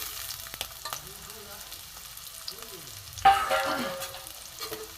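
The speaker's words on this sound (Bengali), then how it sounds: "পেঁয়াজ কুচিটা একটু ভাজা হোক।" Chopped onions fry in mustard oil in a pan alongside spiced chicken for a spinach curry, a quiet sizzle with a few stirring scrapes and one louder burst of frying partway through.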